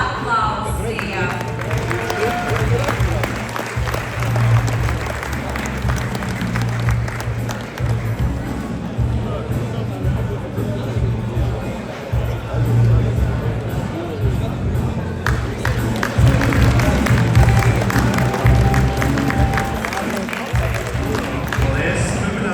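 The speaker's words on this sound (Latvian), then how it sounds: "Gaidām laureātus ar aplausiem." A crowd at an awards ceremony gives sustained applause for the winners, a dense wash of clapping over nearly half a minute with crowd noise mixed in.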